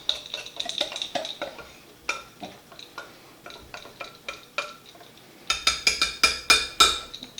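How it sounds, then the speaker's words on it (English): Batter being stirred to work out lumps, a utensil clicking and scraping against the bowl in a quick, repeated rhythm, close and fairly quiet, growing brisker toward the end. "You can see we're just kind of getting the lumps out of it."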